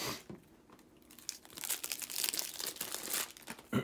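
Plastic wrapping torn and crinkled off card packs from a Cities Skylines board game, close and loud rustling and crackling that builds over a few seconds with no talking.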